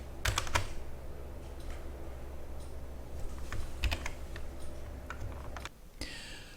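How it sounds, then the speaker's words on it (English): Computer keyboard typing, irregular bursts of key clicks at close range with a steady low hum behind, as an event description is entered; a brief pause near the end before a few more keystrokes. "I've typed in some text there to describe the event"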